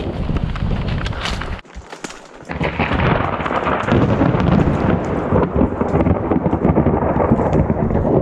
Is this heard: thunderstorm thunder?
yes